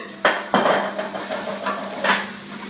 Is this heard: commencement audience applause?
no